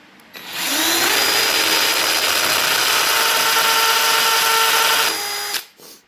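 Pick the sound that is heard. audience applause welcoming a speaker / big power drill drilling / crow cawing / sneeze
big power drill drilling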